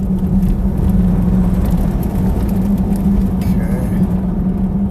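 A Tesla Plaid in track mode with race preset pulling hard, a steady loud whir and road roar from inside the cabin, with some background voices.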